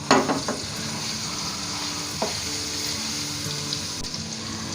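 Chopped garlic crackles in hot oil with a dense, steady sizzle close at hand, broken now and then by a brief stir or clink.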